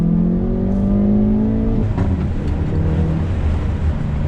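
A Hyundai N sports car, an i30 N, accelerates hard with a loud, close engine note whose pitch rises steadily, then drops at a gear change before the engine keeps pulling with a rough, rumbling drone.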